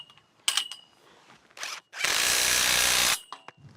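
An impact driver tightens bolts on a metal greenhouse frame: a few short clicks and handling knocks, one brief burst, then a steady whirring run of about a second, close by with no talk.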